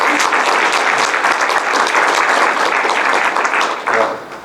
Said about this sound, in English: Round of applause for all they did for me.